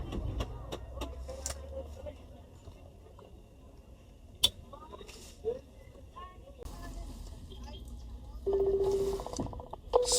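A phone call fails to connect, with a steady electronic line tone sounding for about a second near the end. Before it come sparse clicks, faint background noise and some indistinct talk.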